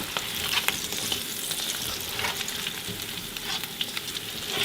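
Salted fish fries in hot oil in a pan with a dense, continuous sizzle and crackle, close and fairly loud, with occasional sharper spits and pops.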